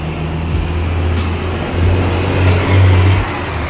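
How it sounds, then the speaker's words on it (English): A construction truck drives past on a street in Santo Domingo, its low steady engine rumble loud and close for the whole stretch, swelling slightly near the end with faint traffic noise around it. "that is a construction truck, so there is a lot of movement"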